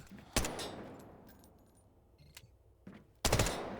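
Bursts of SMG 45 submachine gun fire in the shooter game Delta Force: a loud rapid burst, a softer scattered patch of shots, then two more sharp bursts near the end, with no talking.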